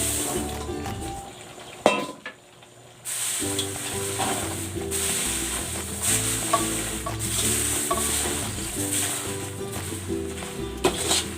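Laing, taro leaves simmering in coconut milk, bubbles and sizzles in a pan while a utensil scrapes and clinks against it. The stirring pauses briefly early on, then continues steadily.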